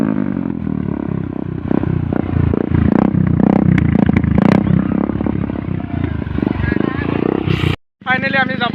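A motorbike engine turns over and runs loudly and close for most of the clip, with clattering mechanical noise, while people talk and chatter nearby, then a brief drop to near silence.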